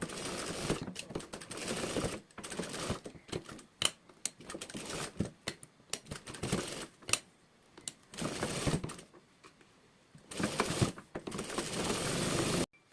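A sewing machine stitches fabric in several separate bursts of rapid whirring, each lasting a second or two, broken by quiet gaps with small clicks and handling noises, no talk.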